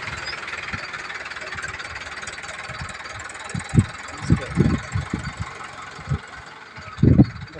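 A farm tractor engine runs steadily outdoors in a village field, a low idling rumble with irregular louder knocks and thumps toward the end, moderately near, with no talk over it.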